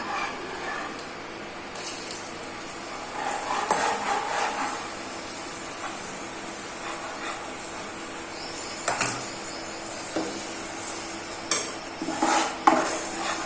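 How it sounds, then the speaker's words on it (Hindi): Flour is stirred in a hot pan to make kadah prasad. A spoon scrapes and clinks steadily against the metal over a faint hiss, with louder knocks coming in short clusters toward the end. "आटे चंकी तरह मिक्स कर लेंगे कि कोई गंढ ना बने"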